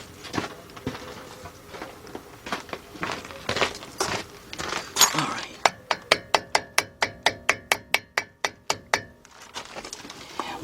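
A hammer knocks a wheel bearing race into the front hub of a 1996 Ford F150 pickup: after some softer rustling taps, about a dozen sharp, evenly spaced metallic strikes ring out close and loud in a steady rhythm, with no talking.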